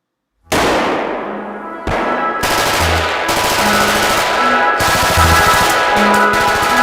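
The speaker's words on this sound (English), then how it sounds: "a bit of live firing on the range" Live gunfire on a military shooting range: bursts of automatic fire and sharp shots start abruptly and keep up almost nonstop at close, loud range, with brief pauses between volleys and no talking.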